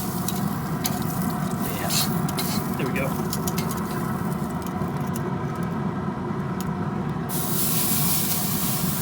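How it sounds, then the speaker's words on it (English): A steak sears on a Z Grills pellet grill at over 600F, giving a constant loud hissing sizzle throughout as someone speaks briefly. "That's a good sizzle."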